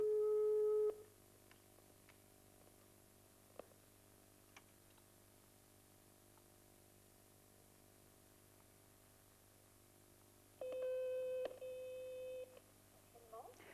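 Telephone dialing to the 111 directory service: a tone sounds at the start, a long stretch of quiet line follows with faint ticks, then steady multi-pitch tones return near the end.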